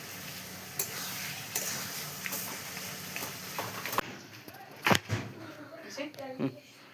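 Sweet pickle being stirred in a pan: scraping strokes and soft sizzling run through, with louder spoon knocks toward the end.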